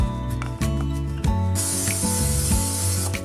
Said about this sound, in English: the trick is to spray it with a little bit of Pam